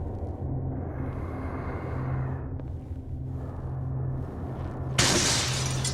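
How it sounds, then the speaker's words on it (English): Glass shatters with a sudden bright crash near the end in the Call of Cthulhu video game, after a low rumbling ambient hum. "Broke the glass."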